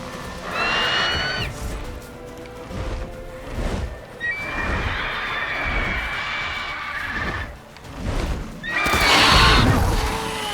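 Horses in The Witcher 3 video game whinny loudly in repeated neighs over rhythmic galloping hooves, with a final shrill neigh near the end.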